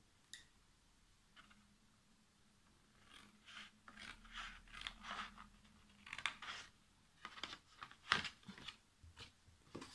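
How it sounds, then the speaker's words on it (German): Scissors snipping into the short edge of a paper card for a double pocket card, several quiet close crisp cuts and rustles in a brief irregular series. "Dann geht ihr auch hier wieder hin und schneidet eine von den kurzen Kanten ein."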